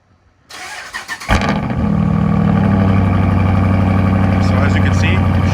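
A 2018 Ram 2500 Power Wagon lift truck cranks over briefly, catches and roars to life, then settles into a loud, steady, deep exhaust rumble close by.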